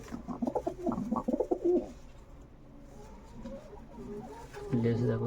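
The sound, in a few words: pigeons cooing in a loft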